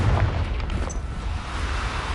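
Fiery Confringo blast spell going off in the video game Hogwarts Legacy on PS4, a loud, sustained rumbling explosion that fills the short moment.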